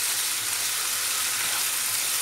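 Peppers, onions and tomatoes fry in a pan with a steady, dense sizzle that stays close and even throughout, with no talking over it.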